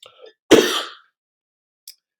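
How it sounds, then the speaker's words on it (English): A single rough throat-clearing cough, close and loud, followed by a brief faint sound a moment later. "I'm gonna cough for some reason."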